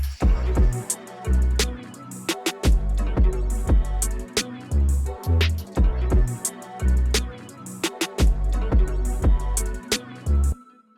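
Drum beat built from a sample, looping with heavy booming low hits, sharp snare-like cracks and busy layered textures in a steady groove, loud and continuous with no talk, ending abruptly.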